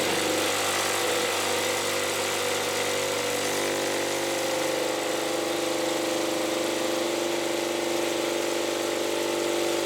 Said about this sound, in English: we're going to put some 10mm gravel in there, cleaner, dirty parts, clamp it down, set it going